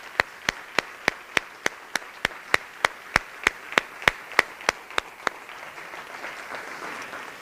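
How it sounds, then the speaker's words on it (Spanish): Rhythmic clapping from a charity gala audience, about seventeen sharp claps in steady unison, then a softer spread of scattered applause that fades out at the end. "lo primero que quiero es daros mi fuerte aplauso a todos vosotros y gracias"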